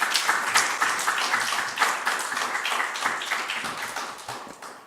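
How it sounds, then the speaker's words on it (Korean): A church congregation at a Wednesday service claps to welcome a pastor, with moderate, fairly even applause that fades slightly toward the end. "나오실 때 우리 박수로 환영해 주시면 감사하겠습니다."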